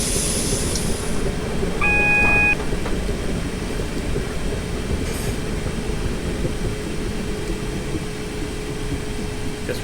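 A Class 455 electric passenger train rolls along in Train Simulator 2018 on the Guildford to London Waterloo route, its steady rumble and track noise carrying throughout, with a brief electronic beeping tone near the start and no talk.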